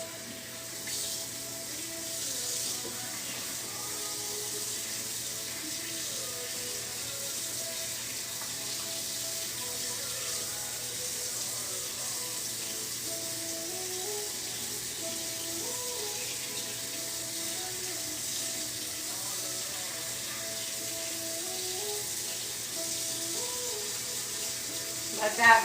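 Tap water running steadily over a tie-dye shirt being rinsed in a sink, a continuous even splashing hiss with faint tones under it, at moderate level throughout.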